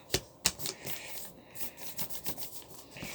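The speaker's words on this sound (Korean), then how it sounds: "중간으로 한 번 접고 또 반대쪽도 한 번 접어줍니다." Paper is folded into a magic cube: two crisp snaps up front, then soft rustling and creasing close by, faint and uneven, with no talk.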